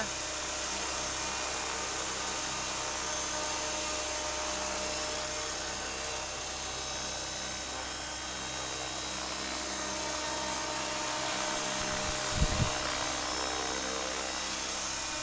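A remote-controlled AH-1 Cobra model helicopter flies with a steady, high-pitched whine and hum that holds throughout, with a brief louder thump near the end; no one speaks over it.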